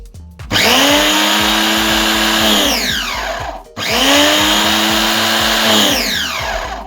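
A loud electric pressure washer motor whines up sharply, runs steadily, cuts off, then starts again for a second long run; harsh, close and without speech.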